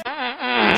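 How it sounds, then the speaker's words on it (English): A short comedic fart sound, a single buzzy squeaking tone that wavers in pitch and grows louder over under a second, close and alone with no talk. "let me fart"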